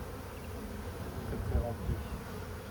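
Dense, steady buzzing of a colony of about 60,000 honeybees in an open hive during an October inspection, close and continuous, with a faint word spoken briefly.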